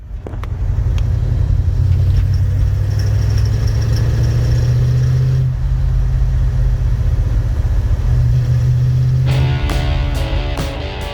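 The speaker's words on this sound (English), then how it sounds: "it sounds like it's detonating as I'm driving along" Car engine rumbling steadily while driving, with the engine's low drone loud and continuous and some faint ticking or knocking toward the end; no voices.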